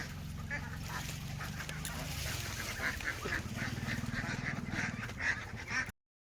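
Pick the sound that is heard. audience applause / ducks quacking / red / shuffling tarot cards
ducks quacking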